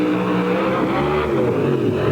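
Mud racing truck engine roaring at 1991 NMRO mud racing in San Jose, California, a loud, steady, sustained growl with shifting revs throughout and no talk.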